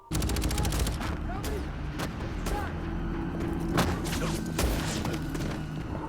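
Gunfire from pistols and machine guns in a Westworld episode crackles in rapid, irregular bursts and single sharp shots, fairly loud and continuous over a rumbling background for about six seconds.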